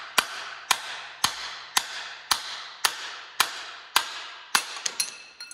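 Sharp metallic hammer strikes on the front axle of a Peterbilt 386 car hauler land in a steady rhythm, about ten blows each ringing briefly, with a quicker cluster of hits near the end.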